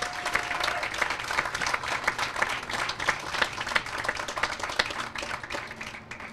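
Audience applause at the Timber Ridge groundbreaking ceremony, a steady crowd clapping that runs for several seconds, fairly even in loudness and thinning slightly at the end.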